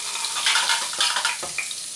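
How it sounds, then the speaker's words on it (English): A steady, loud, close hiss of hot oil as French fries cook in a fry basket, with a few small crackles rising and falling and no voices. "now we're going to put them in the oil"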